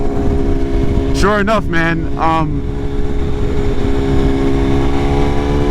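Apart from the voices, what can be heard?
BMW S1000RR motorcycle riding through traffic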